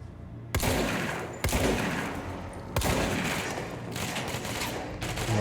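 Loud, close shotgun-style blasts in a video game, several heavy bursts with gaps between them, followed by sustained rattling gunfire.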